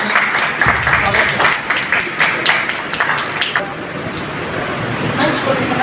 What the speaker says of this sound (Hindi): जो सभी लोग जोरदार तालियों के साथ